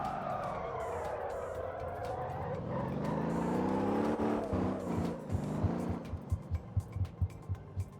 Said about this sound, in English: the sound effects over the curbs is awesome